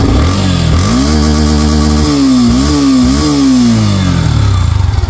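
A used Yamaha FZS version 3 BS4 motorcycle engine catches and starts, then revs in several short rising and falling bursts. It is loud and close, and no voices are heard.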